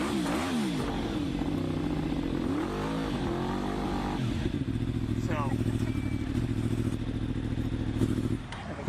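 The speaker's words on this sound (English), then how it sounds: "this one, the so-called crotch rocket, also is pretty loud here" A sport motorcycle, a so-called crotch rocket, idles loudly close by with a steady engine drone and a few rising revs, while a person talks over it.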